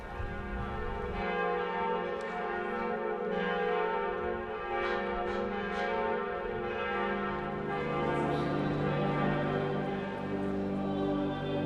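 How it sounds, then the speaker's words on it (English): Church bells in Paris ring out in overlapping, sustained peals, steady and fairly distant, with no talking over them. "You can hear the bells."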